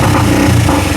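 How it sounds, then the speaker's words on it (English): A KSR Moto GRS125 motorcycle engine runs with a loud exhaust, a steady close-up drone lasting about a second with no pauses. "Starts on the button. It's very loud, and the exhaust is ridiculous,"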